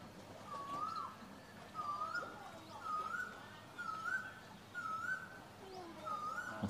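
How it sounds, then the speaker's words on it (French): A bird calls repeatedly, about once a second, with short rising whistled notes in a steady insistent rhythm, moderately near. "l'oiseau qui s'énerve derrière"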